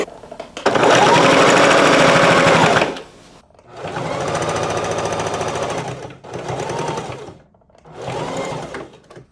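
A sewing machine stitching a fabric sewing machine cover, running in four bursts: one long loud run, then three shorter runs separated by brief pauses, close and steady with no talk.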